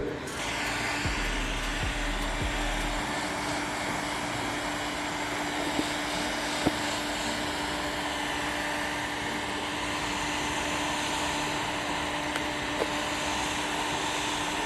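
Steady, loud whooshing hum of a hair dryer blowing hot air continuously onto a BMW 520i, with a constant motor whine and occasional faint clicks.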